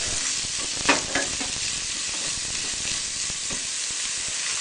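Carrots stir-fried in a pan give off a steady, close sizzle and frying hiss, with a few soft scrapes and stirring knocks early on.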